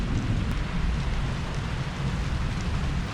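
Steady rain with low rumbling thunder at a beach-side setting near Mandarmani forms a continuous, fairly loud wash with deep rolling undertones and no voices.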